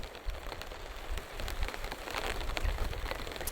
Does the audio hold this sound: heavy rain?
yes